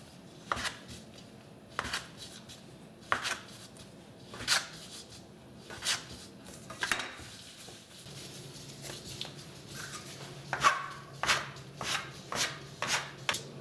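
Dough for Moscow doughnuts is cut into small pieces on a board, a series of distinct knife chops coming at irregular intervals, close and fairly quiet.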